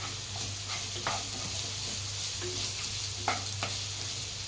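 A pinch of ajwain and asafoetida sizzling in hot oil, a soft steady crackle with a few small pops over a low hum, quiet and close, no voices.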